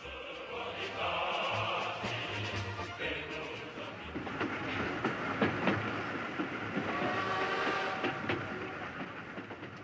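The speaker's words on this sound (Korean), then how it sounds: "북한으로 향하고 있는 기차 안." A train rolls along rails in a radio drama set during the Korean War, a steady loud rumble with rhythmic clickety-clack from the wheels that runs the whole way through, with no voices.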